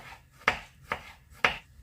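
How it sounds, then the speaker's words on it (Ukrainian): A knife chops a small carrot on a cutting board three times, each a crisp sharp knock spaced evenly with quiet gaps between. "Відразу ж сюди нарізаємо ось цю малесеньку морквичку"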